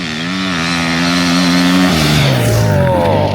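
Racing motorcycles at the Spoke Motorcycle Festival, a loud close engine note that holds steady then drops and rises again as a bike revs and shifts, filling the whole short moment.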